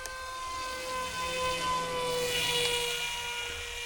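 A radio-controlled F-22 park flyer with a pusher motor flying overhead, giving a steady high-pitched electric whine with a gently wavering pitch, fairly close and continuous.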